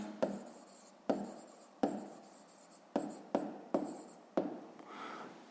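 Short bursts of a pen scratching answers into a notebook during a sixth-grade maths exercise, about seven quick strokes with brief pauses between them, close and fairly quiet with no talking.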